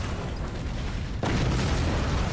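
A large blast from an atom cannon in the strategy game Forts, a sudden boom at mid-clip swelling into a sustained roar under continuous dense rumble, loud and close.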